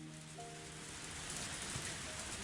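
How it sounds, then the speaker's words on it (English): Heavy rain pouring steadily in the Higurashi visual novel, a dense continuous hiss that is fairly quiet and unbroken, with faint tonal game music underneath and no voices. "I didn't think it would rain so hard"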